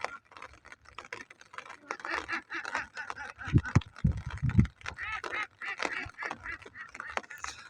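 A flock of four-month-old ducks quacking in a busy, overlapping chatter, close by, with louder bursts of calls partway through.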